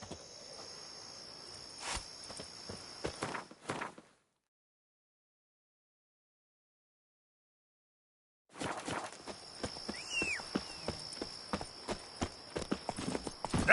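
Roach the horse clip-clops at a steady walk through The Witcher 3 amid chirping crickets, stopping for a silent gap of several seconds before the hooves resume.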